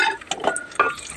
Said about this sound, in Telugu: నెక్స్ట్ కిస్మిస్ను కూడా మనం ఫ్రై చేసుకోవాలి